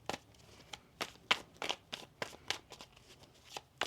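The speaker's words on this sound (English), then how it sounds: "One more shuffle here." Tarot cards being shuffled by hand, a run of soft riffling flicks and papery snaps in an irregular rhythm, close and fairly quiet, with no talking.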